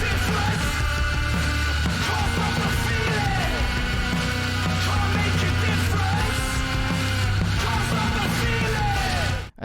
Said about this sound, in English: love just that screeching. Could be feedback from the guitar there